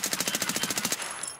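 A rapid automatic burst of gunfire in the shooter game Escape From Tarkov: about a dozen evenly spaced, punchy shots fired in quick rhythm, then a short fading echo. Nobody speaks.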